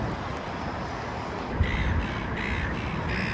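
Seagulls calling in a city park by the harbour in Sydney, a few harsh caws repeating in short bursts over a constant outdoor background hum.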